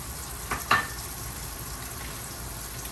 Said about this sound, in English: I'm gonna put my heat on low, you know, keep this simmering